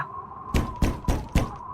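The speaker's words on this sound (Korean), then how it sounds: "똑똑똑 밖에서 문을 두드리는 소리가 났어요." Four firm knocks on a wooden door, spaced evenly and sounding close, over a steady low hum, in a Les Misérables story set at a mountain village church on a cold winter evening.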